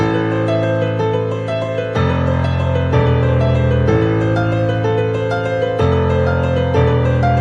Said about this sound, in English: Learn the most powerful beginner piano pattern in these 3 easy steps.